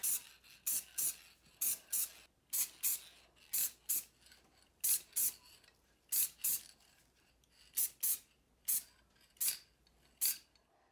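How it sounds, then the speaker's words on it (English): Matte clear coat sprayed from an aerosol can onto painted parts of a DT-12 heavy blaster pistol replica: close, short hissing bursts in a steady rhythm, about two per second with brief pauses, and no talk. "Once the paint is cured, apply some matte clear coat to take down the shine."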